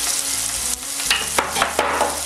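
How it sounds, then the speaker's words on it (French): Red onion bulbs stirred in a hot pan, with a steady broadband sizzle broken by several sharp scraping strokes of the utensil, close and fairly loud, with no talking. "Ensuite, mélanger l'oignon."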